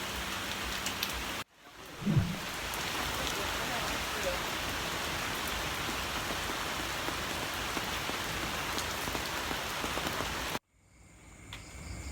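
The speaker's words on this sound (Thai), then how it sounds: "ตอนแรกลมมาเฉยๆนะครับนึกว่าจะไม่ตกครับฝนอยู่ดีก็ ตกลงมาเลยนะครับผม" Steady heavy rain pours down at night on a river fishing raft on the Lopburi River, a continuous dense hiss that starts abruptly and cuts off near the end, with no talk.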